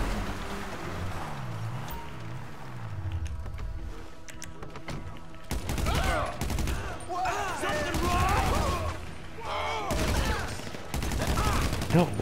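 Carbine rifle gunfire in the video game GTA V, bursts of rapid shots crackling in clusters over a low engine drone, with people talking over the action.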